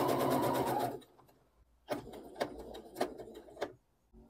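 A sewing machine stitches a reinforcement stitch on English eyelet embroidery at a mitred corner, first in a loud continuous whir, then in short stop-start bursts of clattering stitches, close up with no voices.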